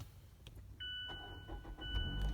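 A 2017 Mazda CX-5 Sport AWD with a 2.5L Skyactiv engine started by push button: a steady two-tone electronic chime, then a low engine rumble swelling and holding near the end, with no voices.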